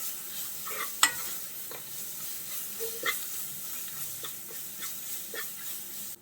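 Ground pepper and garlic paste being sautéed in a pan for rasam: a soft oily sizzle under repeated scraping stirs of a spoon against the pan, with sharp clinks at irregular moments, close and moderately loud.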